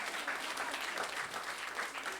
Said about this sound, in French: Est-ce que vous pouvez applaudir pour vous-même ce matin?